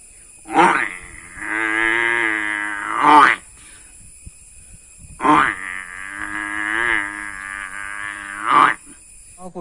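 A voice imitates a water buffalo's call: two long, drawn-out lowing moos, each swelling and ending abruptly, separated by a short quiet gap with faint insect-like hum in the background.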